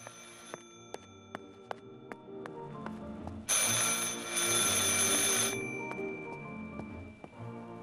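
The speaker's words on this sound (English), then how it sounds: "I should pick up the phone but remain silent." A telephone rings in Martha is Dead, a bright bell-like ring swelling loud for a couple of seconds over steady ticking clicks and a quiet ambient bed.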